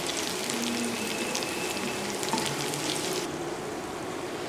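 Six or seven sliced green chilies fry with dried loitta fish in a hot pan, giving a steady, close, dense sizzle with faint stirring and no voices.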